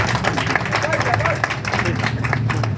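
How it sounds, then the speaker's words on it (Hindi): An audience at an Eid Milan gathering claps to welcome a guest, a close, brisk patter of many hands running through the whole moment alongside light crowd murmur. "ताली बजा के इनका स्वागत कीजिए।"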